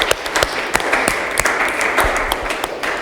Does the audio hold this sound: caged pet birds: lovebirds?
no